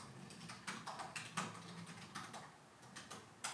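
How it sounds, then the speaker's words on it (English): Someone types on a computer keyboard in irregular bursts of soft, quick key clicks, close and fairly quiet, with short pauses between runs. "Typing is hard with a handlebar interface."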